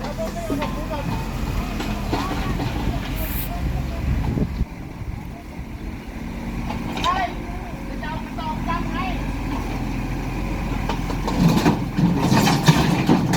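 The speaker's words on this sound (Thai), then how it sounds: "แมคโครเล็กนะครับ" A small excavator sits parked with its engine idling at a site where rubble and concrete debris are being cleared, a steady low rumble running throughout under nearby voices and occasional clatter.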